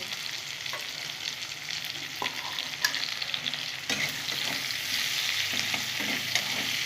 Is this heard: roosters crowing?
no